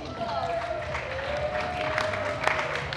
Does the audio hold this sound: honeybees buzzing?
no